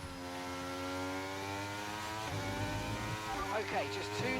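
A race car engine in a racing video game at the Qatar GP, running on low fuel and fresh soft tyres, drones steadily at high revs with a clear pitch drop mid-way as it shifts and settles again.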